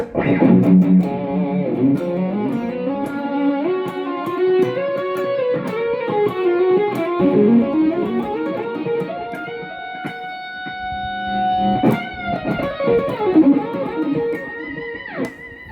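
An electric guitar plays a melodic solo through a Boss GT-100 multi-effects unit set with delay and reverb: sustained, bending lead notes ring out with echoing tails and occasional sharp picked attacks, loud and alone.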